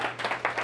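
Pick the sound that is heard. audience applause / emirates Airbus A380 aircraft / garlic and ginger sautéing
audience applause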